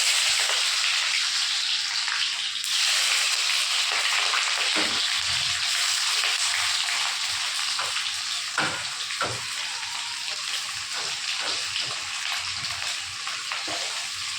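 Onion and green chili hit hot oil already seasoned with a little cumin. A loud, steady sizzle fills the whole stretch, broken by occasional stirring scrapes, with no one talking.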